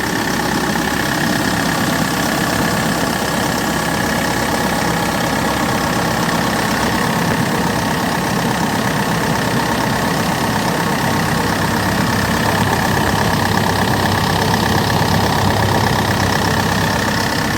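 Kia Bongo III 4WD truck engine idling with the engine compartment open, a steady close rumble holding an even, continuous drone throughout with no talk.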